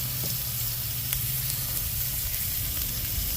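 Meat for chopped cheese sandwiches frying on an outdoor griddle gives a steady, close sizzle with a constant hiss and occasional faint pops, and no voices.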